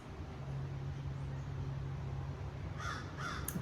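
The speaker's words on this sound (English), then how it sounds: "the crows are just going off" Several crows caw outdoors, two or three harsh calls coming near the end over a low, steady background rumble, with no one speaking.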